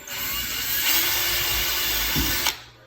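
A power drill bores small pilot holes into a wooden door being fitted with hinges, a steady close whine running almost unbroken for about two and a half seconds before cutting off.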